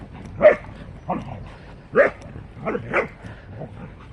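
Small pet dogs give several sharp, close barks and yips at uneven intervals, with softer whimpering sounds between the louder outbursts.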